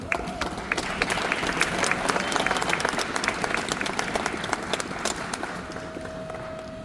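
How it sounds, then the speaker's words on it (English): An audience at a Republican rally in Trenton gives a round of applause, brisk dense clapping that builds, holds steady and then gradually thins, with a faint tone near the end. "Give her, please, a round of applause"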